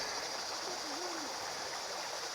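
A creek in New Mexico's Catwalk Recreation Area rushes steadily in a broad, even hiss, constant and fairly close, with no speech.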